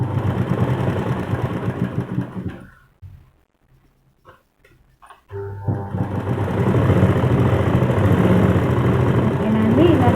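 A sewing machine stitches a side joint on cloth in a steady, fast mechanical whirr, stopping briefly midway before running again, with someone talking over it.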